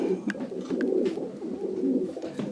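Pigeons cooing in a loft, a steady murmur of soft, low coos from several birds overlapping at close range, with a few brief wing or foot sounds.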